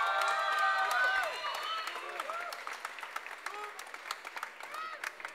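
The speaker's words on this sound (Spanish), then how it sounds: "Otro aplauso así súper importante." Audience applause at a concert, dense clapping loud at first then thinning into scattered claps and cheers, with voices calling out in the crowd.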